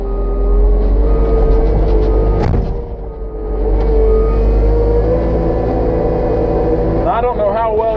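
A Cat 289D skid steer runs a brush grapple, its engine droning loud and close with a brief dip in revs midway, while someone talks over the machine.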